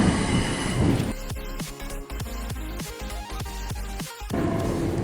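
A Melbourne suburban train runs along the line with repeated sharp wheel squeals and rhythmic rail clicks over a rumbling interior, heard close from on board.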